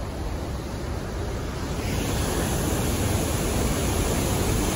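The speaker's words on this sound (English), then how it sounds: "Let the river flow." A river rushes in a steady, broadband roar of flowing white water, loud and continuous outdoors near Pemberton, with no voices over it.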